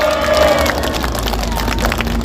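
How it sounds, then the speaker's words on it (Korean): Short burst of audience clapping and crowd murmur at a podcast event in support of Hong Kong citizens, fairly loud and steady with a little babble beneath it. "우리는 홍콩 시민들을 위해서 격려의 박수 부탁드립니다"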